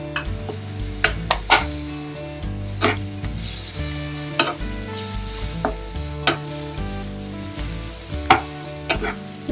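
Tomato with cumin and coriander powder roasting in a pan for paneer bhuna masala, a loud sizzle broken by repeated sharp scrapes and clinks of a spoon stirring against the metal, with no talking.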